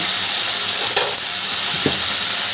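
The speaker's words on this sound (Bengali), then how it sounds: "এবার এই আলু বরবটিগুলো একটু ভাজা ভাজা করে নেব" Potatoes and yardlong beans frying in a pan, a loud, close, continuous sizzle broken by a couple of brief stirring clacks.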